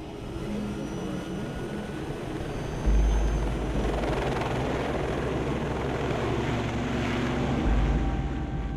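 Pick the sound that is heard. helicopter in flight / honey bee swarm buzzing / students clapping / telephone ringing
helicopter in flight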